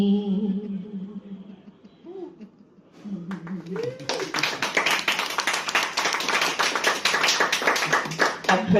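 A stand-up comedy audience at the Edinburgh Fringe bursts into applause after a performer speaks, with dense, loud clapping that starts about halfway through and continues steadily to the end.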